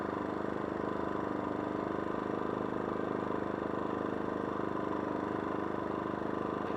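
A Power Smart 2500 watt inverter generator runs at low idle, giving a steady, even engine drone with a continuous broadband hum that holds constant throughout and is heard alone.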